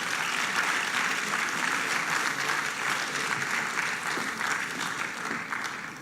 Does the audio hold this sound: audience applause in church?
yes